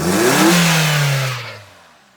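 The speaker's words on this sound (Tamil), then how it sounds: "வண்டியை ரேவ் பண்ணாலும் நமக்கு வந்து பார்த்தீங்கன்னா நல்லா செட்டில்டா செம்ம ரிஃபைண்டாக இருக்குது" A Maruti Brezza engine revs up and falls away, a smooth, loud rising whine that fades out over about two seconds.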